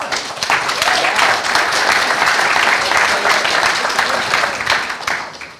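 A summit audience gives a steady, full round of applause for a panel of vendors, dense clapping holding at an even level before tapering off at the end.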